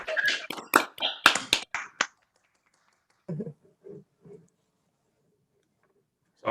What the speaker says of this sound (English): So if y'all wanna give our panelists a strong round of applause, feel free to unmute yourself and clap if you feel inclined.